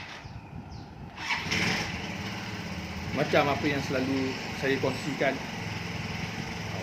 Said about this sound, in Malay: Bunyi motor sekejap.